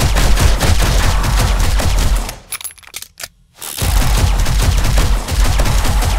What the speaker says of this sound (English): The turrets are going to help shoot us.